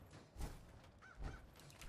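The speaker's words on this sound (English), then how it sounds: "Look out, crazy birds." Birds calling in Fallout 4 in daytime, a couple of faint honking, goose-like cries over quiet low rumbling.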